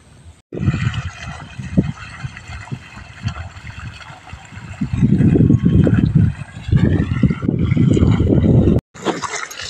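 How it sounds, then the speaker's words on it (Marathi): Water gushes from a motor pump's pipe into a barrel at home, a steady splashing stream that swells louder midway, then cuts off briefly near the end before resuming. "पाणी येतोय बघा आता."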